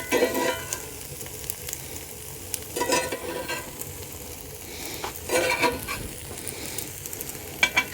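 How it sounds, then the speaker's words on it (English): Close, steady sizzling of pizza toppings cooking in a hot pan on a Camp Chef camp stove, with occasional clinks and scraping sounds, no voices. "Yep, it's already sizzling."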